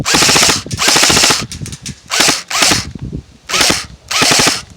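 Classic Army EC1 airsoft AEG rifle with a mid-cap magazine firing full auto: five loud, close bursts of rapid buzzing shots, each lasting roughly half a second to a second, separated by brief pauses.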